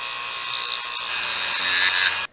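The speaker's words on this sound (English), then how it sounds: "I'm gonna use my Dremel to spin my workpiece and then just come in here with the cutoff wheel and start shaving away" A Dremel rotary tool spins a 3D-printer hotend heat break while a cutoff wheel shaves away its fillet, giving a steady high-pitched whine with grinding hiss that swells toward the end before stopping abruptly.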